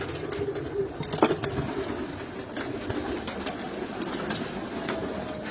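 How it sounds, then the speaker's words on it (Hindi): Soft coos of caged performer pigeons rise and fall over a busy, noisy background, with a brief flutter of wings. "इन केजेस में आपको बेहतरीन अच्छे कबूतर"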